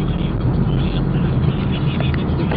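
A car drives through the city of Irkutsk, Russia, its engine and road noise a steady, close, continuous rumble heard from inside, with no talking.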